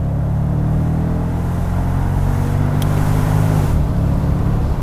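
2006 Mercedes SL55 AMG engine pulling hard under acceleration, a loud, deep, continuous drone that rises steadily in pitch, then drops near the end as it shifts up a gear, with no voices.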